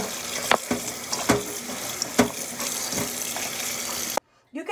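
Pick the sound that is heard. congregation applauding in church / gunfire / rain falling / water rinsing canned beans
water rinsing canned beans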